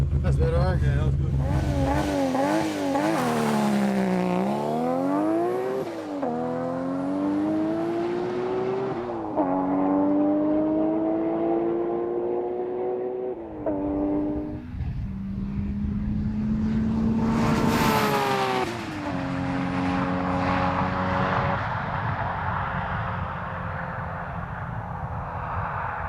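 A four-wheel-drive car accelerates and revs hard on a slippery runway, the engine pitch sweeping up and down through repeated gear changes, loud and close throughout, with a voice briefly heard in the background.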